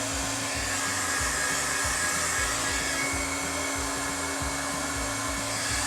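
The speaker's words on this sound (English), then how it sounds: "I'm going to heat my paper. Just hit it with the dryer, the heat gun, not much." A heat gun blows hot air over paper being prepared for a stamped, embossed card, giving a steady, loud, continuous whooshing roar with a low motor hum that runs unbroken from start to finish.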